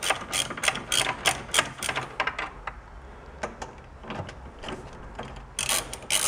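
A ratchet fitted with a 10mm socket clicks rapidly in quick, close bursts while loosening bolts on a 2016-2021 Honda Civic, with brief pauses between strokes.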